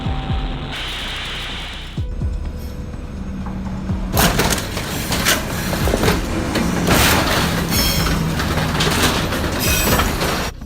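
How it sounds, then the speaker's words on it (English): A B-double truck collides with a freight train in the Goldfields, heard as loud rumbling train noise with clattering wheels, sharp impact crashes and grinding metal debris, sustained and close from about four seconds on. "a collision between B double truck and freight train in Goldfields"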